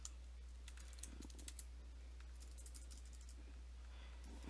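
Rapid computer keyboard typing of a Java command, clusters of crisp key clicks in quick runs with short gaps, close and faint over a steady low electrical hum.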